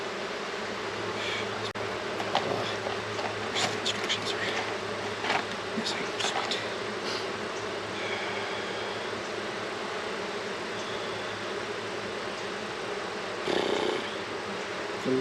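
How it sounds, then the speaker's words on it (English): Agitated honeybees swarm around an opened hive during a honey harvest, a dense, continuous buzz close by with individual bees zipping past and occasional handling noises. "these bees are pissed, especially after what I just did to them"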